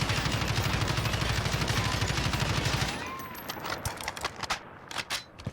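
Rapid automatic gunfire from a weapon in Modern Warfare (Warzone), a loud dense burst of steady shots lasting about three seconds, then breaking into scattered single shots and mechanical clicks.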